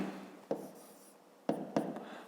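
Chalk or pen writes on a surface during a fifth-grade maths lesson, giving three short tapping strokes, one early and two close together near the end, over a quiet room.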